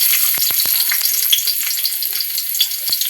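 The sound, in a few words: sautéing spices in hot cooking oil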